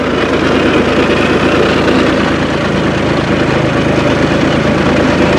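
A tractor engine runs steadily at close range, a loud, continuous low diesel drone with no talk over it, recorded while spreading slurry on a pomegranate plot.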